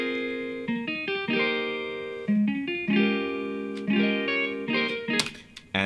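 Arpeggiated chords played note by note in a home music studio, with clear pitched tones stepping up and ringing over each other through an effects unit with some reverb and distortion, played alone.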